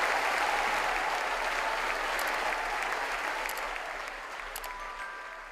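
A church congregation applauds during a sermon, with steady, dense clapping from a large room that gradually tapers off, plus a few faint higher tones near the end.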